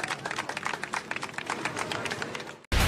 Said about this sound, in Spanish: Bravo. ¡Aplausos!